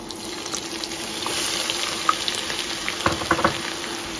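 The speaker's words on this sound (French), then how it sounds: "Je vais laisser frire environ 2 à 3 à 4 minutes." Chicken thighs, onions and seasoning frying in oil in a pot, a steady crackling hiss with a few sharper pops toward the end, moderately close and without talk.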